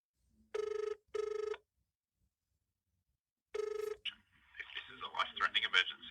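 Two ringing tone bursts on a telephone call to a police station, a short gap, then a third ring, followed by an automated recorded voice message; fairly clear and close, as heard through the phone line.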